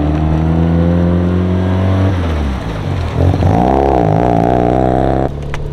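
A Mazda RX-7 engine idles steadily, then revs up with rising and falling pitch as it pulls away, loud and close with no voices.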